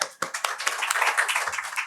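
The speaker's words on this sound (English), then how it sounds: "I was clapping." Hand clapping at a meeting, a few distinct claps at first that blur into a quick, dense patter of applause, close and fairly loud.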